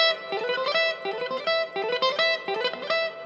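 Guitar played as a short repeating phrase of plucked notes, with a string left ringing out beneath each pattern, heard close and alone.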